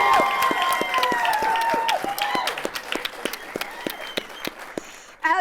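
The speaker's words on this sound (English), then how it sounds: "As you can hear and see, we have an incredible crowd, insane energy." A live crowd at a one-year anniversary real estate show in Las Vegas breaks into loud applause with sharp individual claps and whooping cheers, building and then thinning out toward the end.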